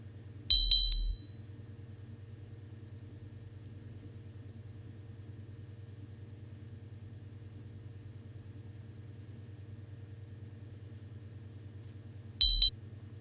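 XCTrack waypoint alerts sound as a quick high triple chime, and after about twelve seconds of steady low humming a second short chime burst follows.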